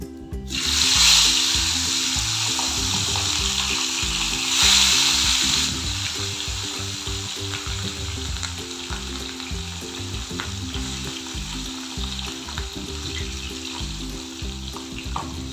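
Pieces of katla fish are lowered into hot oil, setting off loud bursts of sizzling that settle into a continuous, close crackle of frying.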